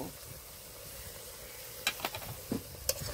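Ritha fish curry masala with a pinch of ground black pepper sizzling in a pan as it is stir-fried: a soft, steady hiss, then several sharp spatula scrapes and clatters near the end.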